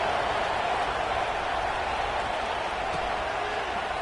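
Stadium crowd in the football video game NCAA 26 roars steadily before a kickoff, a dense, continuous wash of cheering that holds at an even level throughout.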